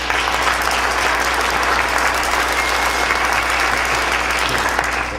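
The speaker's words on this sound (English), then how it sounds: "so a round of applause for them." A large audience applauds for the fellow speakers at a talk, dense, loud and unbroken clapping from start to finish with no voices.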